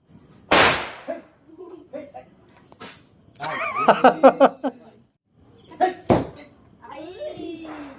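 A loud firecracker bang at a Vishu celebration opens, followed by a burst of rapid crackling pops and another sharp blast, with scattered voices and a thin high whine in the background.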